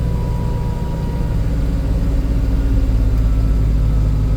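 A JCB 260T compact track loader driving a tree reaper mower attachment idles steadily, a loud, close, low diesel drone with constant rumbling tone and no talk.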